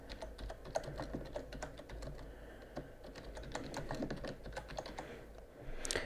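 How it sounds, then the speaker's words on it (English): Keys clatter on a computer keyboard in a quick, uneven run of light clicks as a name is typed, faint and close in a quiet room with no talk. "we're just going to type in our name"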